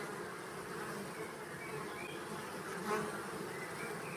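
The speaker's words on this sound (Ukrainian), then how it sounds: "Але бджоли повертаються також з пилком." A swarm of honeybees returning to a hive with pollen makes a dense, continuous buzzing throughout, steady and close with a slight swell near the middle.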